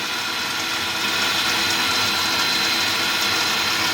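An electric ATV winch on a BRP Outlander reels in new cable, a steady loud whirring drone that runs unbroken and close throughout, with no talk.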